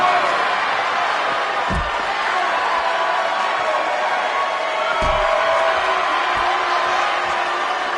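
Sold-out arena crowd in the WWE 2K19 wrestling game, a dense continuous roar of cheering at steady loudness, punctuated by a couple of dull low thuds.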